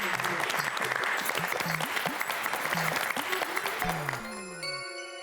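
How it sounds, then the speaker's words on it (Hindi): An audience applauds at an award presentation where a trophy is being handed over, a steady wash of clapping with tonal sounds and possible voices mixed in, fading toward the end. "जोरदार तालियों से स्वागत करें।"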